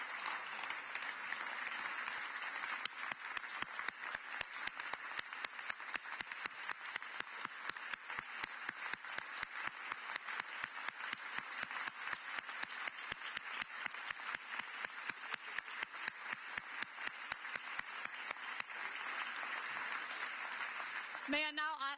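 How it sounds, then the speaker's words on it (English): An audience at a prize award ceremony for women innovators applauds, sustained and evenly dense clapping filling the hall for over twenty seconds before it stops abruptly at the end. "And you can keep on clapping, please."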